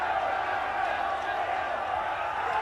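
A cricket crowd roars continuously after bowler Mike Procter takes three wickets in four balls, a broad, sustained wash of cheering from a large stadium audience.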